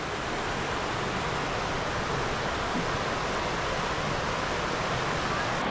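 Zenith Waterfall, hidden in monsoon forest near Khopoli, sends a constant broadband roar of falling water, steady and unbroken, with no voices.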